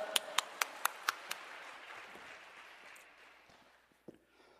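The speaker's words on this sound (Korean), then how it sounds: "우리 강사 목사님 나오실 때 우리 할렐루야로 박수치며 환영합시다" A church congregation at a prayer mountain revival meeting claps to welcome the guest pastor, with a few sharp, evenly spaced claps at first that blur into a soft, fading wash of applause.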